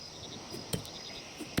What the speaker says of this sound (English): It sounds like crickets.